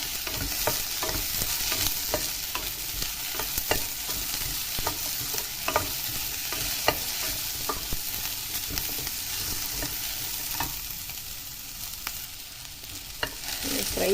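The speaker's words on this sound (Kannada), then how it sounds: "ಮತ್ತು ಹಸಿರು ಮೆಣಸಿನ್ಕಾಯಿ, ಇದನ್ನು ಫ್ರೈ ಮಾಡೋಕ್ಕೆ ಹಾಕ್ತೀನಿ" Green chillies fry in a pan for mint chicken, a steady close sizzle with repeated scraping stirs of a spoon throughout.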